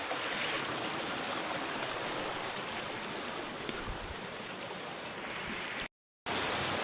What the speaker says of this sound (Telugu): కిందికి అయితే మంచి వాటర్ ఫాల్స్ ఉంది